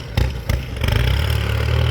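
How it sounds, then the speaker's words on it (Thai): A Kubota M-9540 tractor grading soil rumbles nearby, a couple of clanks up front, then a steady, loud chugging idle with low mechanical clatter. "เอาบรรยากาศของรถตุ้มดินให้เบิ่งเลยพี่น้อง"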